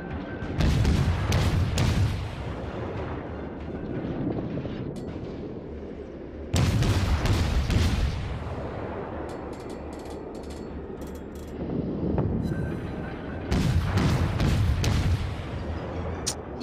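Naval gunfire from ships in the World of Warships video game, with heavy booming shots and rumbling explosions recurring in several loud bursts amid mechanical clanking.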